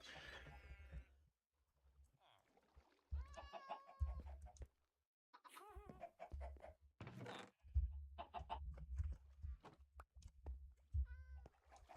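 Chickens in a video game, Minecraft-like survival world, clucking and squawking in repeated short bursts over a steady low game hum, fairly close and clear, with other animal-like calls mixed in.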